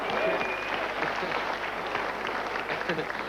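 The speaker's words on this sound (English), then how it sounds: "Only half the audience clapped" A studio audience on a 1991 talk show applauds, producing a thin, scattered patter of hand claps that carries steadily through the whole stretch at moderate volume.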